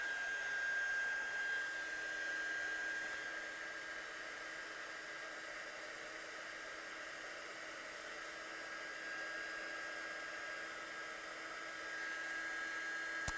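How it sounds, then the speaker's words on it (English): A hair dryer blows steadily on a watercolour stamped card, a constant close whooshing hum that holds for the whole stretch with no talk. "So I'll just dry this one off."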